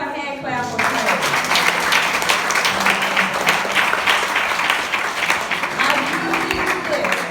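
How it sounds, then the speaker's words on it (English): Church congregation clapping hands in praise, a dense, steady burst of applause filling the room from start to finish, with a voice briefly heard at the outset. "Give God a hand clap for praise."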